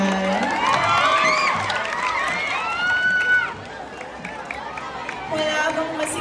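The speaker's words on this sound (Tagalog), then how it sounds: "Wala bang masigabong hiyawan dyan?" An audience at a Miss Gay pageant in Barangay Bangad cheers and shouts loudly, with high whoops and screams rising over crowd chatter, dipping briefly near the middle before a fresh burst of yells.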